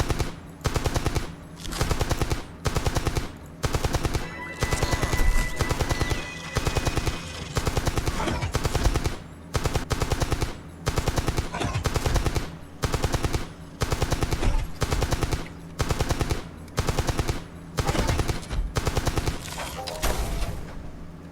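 Automatic gunfire from a weapon in the online game Entropia Universe, rapid repeated bursts of shots separated by short regular pauses, loud and sustained over the whole stretch.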